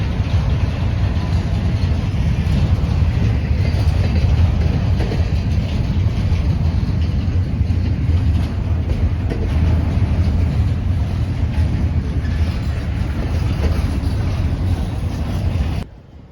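CSX freight train I-044 pulling out of Tampa on the A-Line, a steady, loud low rumble of engines and rolling cars that holds for about sixteen seconds before cutting off abruptly.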